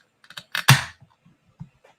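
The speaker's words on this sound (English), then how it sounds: "let me crack this open" A can of Triple Canopy raspberry, blueberry and blackberry sour beer is cracked open close up, with a few small clicks and then one sharp pop and hiss.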